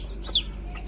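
A brooding country hen, settled with her chicks tucked beneath her, gives a single short cluck, close and brief against quiet farmyard background.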